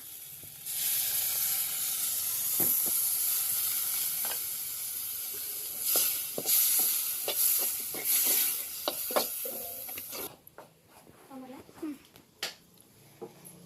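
A tamarind mixture is stirred in a pot on a village stove, giving a steady close sizzle and hiss with scraping strokes of a spoon against the pot, then quieter intermittent clinks toward the end.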